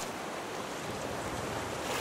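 Ocean waves in the game Raft, a steady rushing wash of surf and wind, continuous and fairly faint with no talk.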